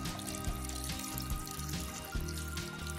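Water pours into a pressure cooker pot while chicken cordon bleu casserole is being made, a faint, continuous splashing and trickling with small irregular bursts.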